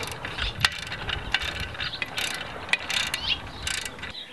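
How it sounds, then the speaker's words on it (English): A socket wrench ratchets to tighten a bolt that carries two lock nuts on a weight-shift arm frame, a series of close clicking strokes in an uneven rhythm over faint background noise. "Take your Allen wrench, put it inside the bolt on the outer part of the arm, and then your socket wrench, and you're gonna wanna tighten"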